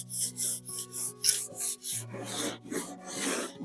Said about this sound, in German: 180er Schleifklotz kurz drüber.